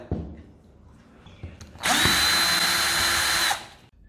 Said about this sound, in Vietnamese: Bây giờ chúng ta sẽ tiến hành tháo những cái ốc vít ở đây ra.